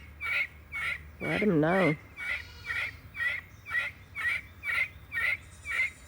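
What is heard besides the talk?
guinea fowl calling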